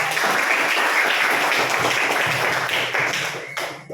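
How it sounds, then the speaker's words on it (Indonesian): A classroom of students claps in sustained, dense applause that stays loud and even for several seconds before tapering off near the end. "berikan aplaus untuk"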